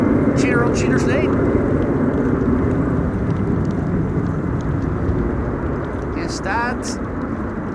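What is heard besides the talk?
Embraer 190 airliner (DTM livery) departing to Frankfurt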